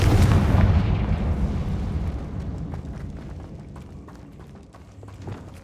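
Confringo explosive spell in Hogwarts Legacy: a heavy explosive boom opens loud and rolls into a long, fading rumble, with scattered crackles and debris ticks and a small thump near the end.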